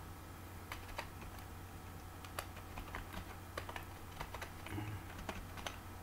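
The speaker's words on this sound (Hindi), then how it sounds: "तो इसको मैं टाइप करता हूँ" Quiet typing on a computer keyboard, a steady scatter of soft, irregular key clicks heard close and alone.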